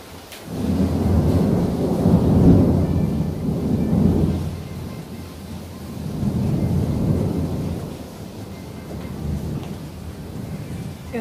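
Deep rolling thunder from a storm rumbles in long swelling waves, with a soft hiss of rain beneath it and no speech.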